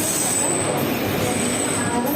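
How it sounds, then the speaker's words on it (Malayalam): Parasuram Express train on its Kanyakumari to Mangalore route passing through a station, giving a steady, loud rumble of rolling carriages with a faint high whine over the top throughout. "കന്യാകുമാരിയിൽ നിന്നും ഷൊർണൂർ ജംഗ്ഷൻ വഴി മംഗലാപുരം വരെ പോകുന്ന പരശുറാം എക്സ്പ്രസ്"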